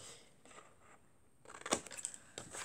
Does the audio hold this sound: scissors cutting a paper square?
yes